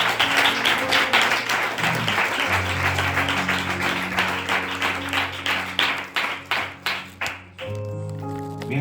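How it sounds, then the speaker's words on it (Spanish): A church congregation applauds, a loud, dense burst of clapping that breaks into rhythmic claps toward the end, with a sustained organ or keyboard tone underneath. "Dale un aplauso fuerte al Señor."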